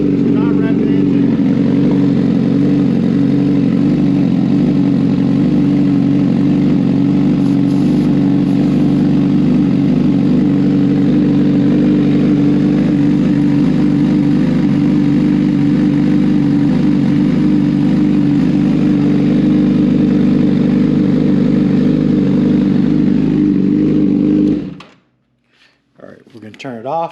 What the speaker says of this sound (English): we're gonna start her up for 30 seconds or a minute.